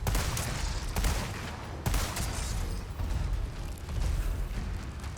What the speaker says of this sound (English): I'm gonna try shooting this way